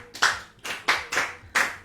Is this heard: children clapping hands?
yes